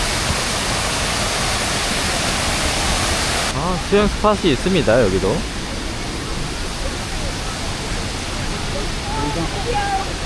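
Steady broadband rushing of Kuang Si Falls in Laos, a tiered terrace waterfall, fills the scene, with people talking briefly over the constant roar.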